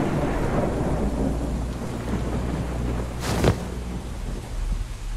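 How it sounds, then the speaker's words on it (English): A thunderstorm in the video game Disturbia, with steady rain hissing throughout and low rumbling thunder, plus a sharper crack of thunder about two-thirds of the way through. "That has been raining every night."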